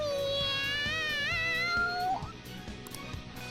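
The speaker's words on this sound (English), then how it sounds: "The cat's acting awfully excited." A video game cat meows excitedly in long, wavering, drawn-out cries over a low background hum, close and fairly loud, with a brief scuffle sound near the end.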